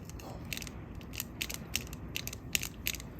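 Plastic clicks and ratcheting ticks from the swiveling part of a Beyblade Burst Wind Knight top being turned, a quiet, close series of small mechanical snaps spread evenly over a few seconds.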